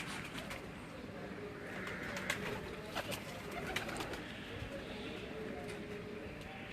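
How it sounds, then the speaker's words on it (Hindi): Lal Pari breed pigeons coo in a loft, making a dense, continuous murmur of overlapping coos at moderate volume with a few sharper sounds scattered through it. "ये उस्ताद मियां नज़ीर के घर की बड़ी मशहूर ब्रीड लाल परी ब्रीड"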